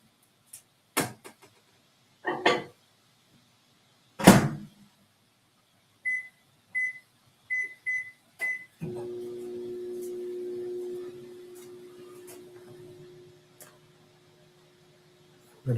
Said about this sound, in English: we're going to put it in the microwave on high for 4 to 6 minutes.